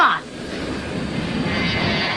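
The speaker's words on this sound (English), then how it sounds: "Around the world on our own jet plane." A jet airplane engine roars steadily as a broad, loud rushing drone, following a brief voice at the very start.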